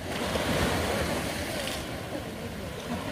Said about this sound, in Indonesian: Ini suasana lautnya.